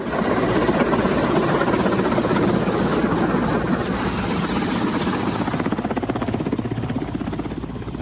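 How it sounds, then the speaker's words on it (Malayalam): An Air Force helicopter flies close by over flood-hit Mandi, its rotor chopping in a loud, steady rhythmic thrum that persists throughout with a constant engine whine. "മാണ്ഡിയിലെ പ്രളയബാധിത മേഖലയിൽ ഭക്ഷണവും മരുന്നും എത്തിക്കാൻ വ്യോമസേന ഹെലികോപ്റ്റർ വിന്യസിപ്പിച്ചു"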